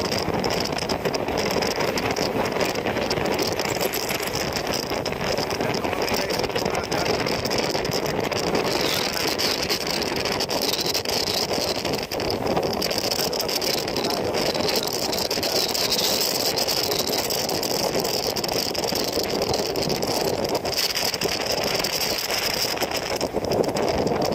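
A boat engine on a Philippine bangka drones steadily and close throughout during Typhoon Kabayan, with rattling and wind buffeting the microphone over the constant hum.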